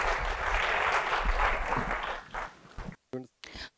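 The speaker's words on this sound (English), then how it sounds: "let's give a big round of applause" A short burst of applause at a tech conference closing a panel discussion, dense clapping for about two and a half seconds that fades quickly, followed by a few words of speech.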